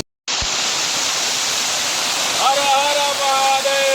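Steady broadband rush of a waterfall at its source, a mountain stream pouring continuously; a voice talks faintly over the roar near the end.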